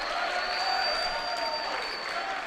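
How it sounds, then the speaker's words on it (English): A basketball crowd gives a sustained ovation, dense steady clapping and cheering filling the gym throughout. "And a great ovation for him from the crowd."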